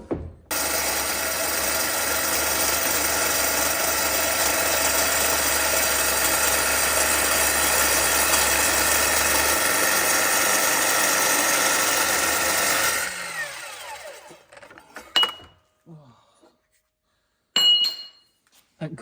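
A Festool Kapex mitre saw slices through a piece of aluminium at a 45-degree angle, giving a loud, sustained metallic screech for about twelve seconds, then spinning down, followed by a few light clinks and rattles.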